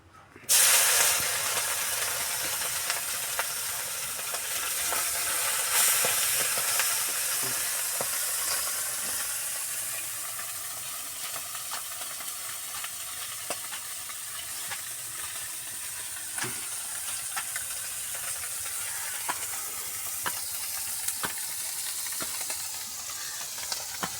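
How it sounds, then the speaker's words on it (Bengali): Small fish fry in hot oil in a pan, giving a loud, steady sizzle and hiss with scattered sharp crackles and pops that go on without a break. There is no talking. "মাছ ভাজার জন্য আমি প্রথমে তেল দিয়ে নিচ্ছি।"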